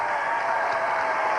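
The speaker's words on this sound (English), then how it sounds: "we will have a round of applause for both of them" An audience claps in sustained, dense applause, loud and continuous for the whole short stretch with no speech over it.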